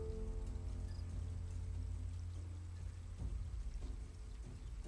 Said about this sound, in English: The rain sounds so nice.